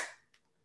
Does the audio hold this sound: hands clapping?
yes